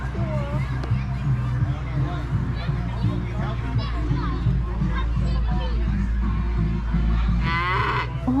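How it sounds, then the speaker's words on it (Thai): A cow moos on a farm in the USA that also offers strawberry picking. A single drawn-out low moo rises near the end, while someone talks and children's voices carry throughout. "น้องวัวน้องวัวชื่อกราเซีย"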